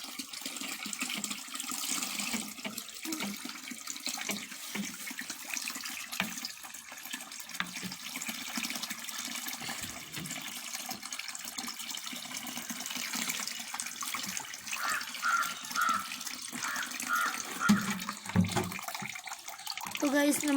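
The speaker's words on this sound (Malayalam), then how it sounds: "ഇത് നമ്മൾ അരിച്ചുകൊണ്ട് മീനുകൾക്ക് ഒഴിച്ചു കൊടുക്കുകയാണ്" Algae water is strained and poured into a fish tank at home, making a continuous close splashing, trickling rush that builds slightly toward the end, with a voice speaking over it at times.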